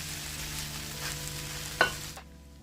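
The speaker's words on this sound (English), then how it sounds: "We actually gonna stir fry for about 5 minutes in low to medium heat for about 5 minutes." Green peas chakalaka being stir fried over low to medium heat makes a soft, continuous sizzle with a brief scrape of stirring near the end before it stops abruptly.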